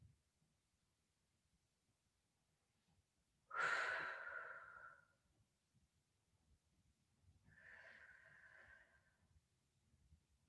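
Exhalation during a Pilates exercise, one long forceful breath out followed a few seconds later by a softer second exhale, close and quiet, otherwise near silence.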